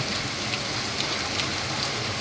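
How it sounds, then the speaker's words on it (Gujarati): Heavy, wind-driven rain pours steadily as a dense, even hiss, with occasional louder drops spattering close by; no voices. "આજે તો વરસાદ સાથે પવન પણ ખૂબ જ સારી માત્રામાં લાગી રહ્યો છે"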